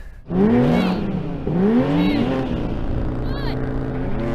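Two BMW M4 cars launching hard in a drag race, their engines surging with rising and falling rev sweeps as gears change, loud and close, while a voice talks over the roar.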